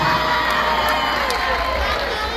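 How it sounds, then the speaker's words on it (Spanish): A college event audience at Lehman College cheers and shouts continuously, with loud whoops and crowd noise filling the whole stretch, close and dense. "Un aplauso a Jenny también."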